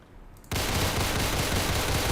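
Sustained automatic gunfire from a first-person shooter video game, a dense, loud rapid burst that starts abruptly after a quiet half-second and keeps firing steadily to the end, with no talk.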